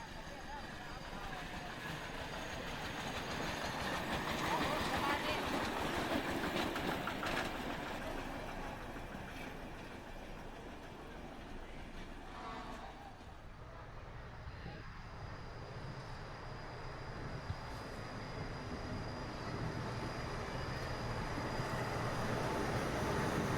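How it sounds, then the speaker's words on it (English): A steady, heavy rumble of an ordinary train rolling into Makkasan Station on Bangkok's Eastern Line, with broadband roar and grinding rising and falling over twenty seconds, a faint voice underneath. "ordinary number 278 from Gabinburi is arriving on platform 1"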